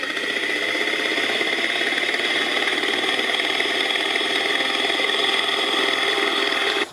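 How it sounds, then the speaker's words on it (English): Hess toy helicopter's flying effect with rotors turning: a steady, loud electronic whir and buzz that holds unbroken for the whole stretch, with no talking over it. "basic flying through the air, basic rotors turning, just, basic helicopter sounds"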